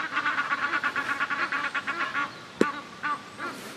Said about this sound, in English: You can tell we're on the main lake by all the geese going crackers.